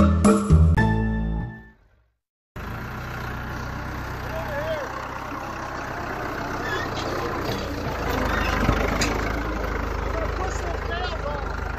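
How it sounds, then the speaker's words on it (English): A farm tractor's engine runs at a steady idle after a brief clunk and a gap of silence, a continuous low rumble with a faint rise near the end while hay hauling begins. "So I'm gonna fire this tractor up and start hauling some more hay."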